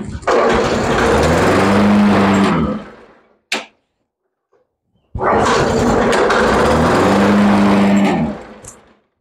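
A Toro lawn mower engine runs loud and close in two bursts of several seconds each, with a short clunk and a pause of near silence between them, each run winding down at the end.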